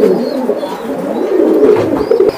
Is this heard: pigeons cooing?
yes